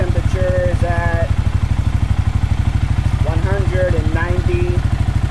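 Kawasaki KLR650 motorcycle engine idling to warm up, a steady loud low thumping throughout while someone talks over it.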